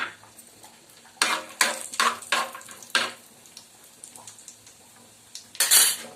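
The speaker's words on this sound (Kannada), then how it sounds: "ಎಷ್ಟು ತುಪ್ಪ ಕಾದಿದೆ ಇವಾಗ ಎತ್ತಿಟ್ಕೊಂಡಿರೋ ಗೋಡಂಬಿಯನ್ನು ಸೇರಿಸ್ತಾ ಇದ್ದೀನಿ" Cashews fry in hot ghee in a metal pan. A spoon clatters and scrapes against the pan in several loud bursts over a faint sizzle, with quieter pauses between the strokes.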